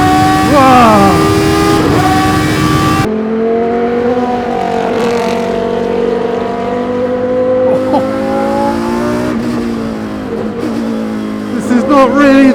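An Ascari V10 Le Mans prototype race car on a twisty track with a loud, howling V10 engine. It revs in rising sweeps with sharp gear-cut upshifts and drops, heard close from on board.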